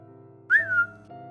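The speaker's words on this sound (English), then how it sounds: "I heard a short whistle sound." A single short whistle rises and then bends down, standing clearly above a quiet background hum near a cabin in the woods.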